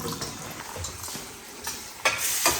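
Tomatoes cook in a pan for chana masala, sizzling steadily while a utensil stirs and scrapes, with sharper clinks near the end; no one speaks.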